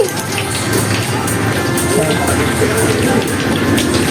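Rain falls steadily, a dense continuous hiss of drops on surfaces. It is loud and close, with faint voices underneath.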